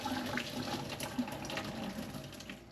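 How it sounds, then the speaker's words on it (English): Pasta cooking water pours through a strainer into a sink, splashing steadily for a few seconds, a rushing flow with faint clatter, no voices. "So we're going to strain the water off these."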